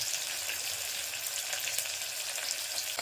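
A large chopped onion sizzles steadily in hot oil in a pan, a dense, even frying hiss with faint stirring, fairly quiet and with no talking.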